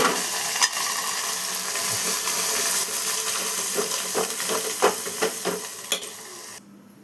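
Ground gongura (sorrel leaf) chutney mixture goes into a pan of sizzling tempering with a fried dried red chilli, giving a steady close frying hiss with stirring scrapes and light clinks that drops away at the end.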